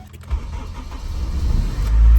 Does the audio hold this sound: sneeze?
no